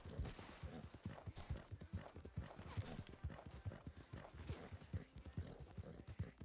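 A horse gallops in the Red Dead video game, heard as rapid rhythmic clip-clop hoofbeats pounding steadily and fairly loud throughout, with no speech over them.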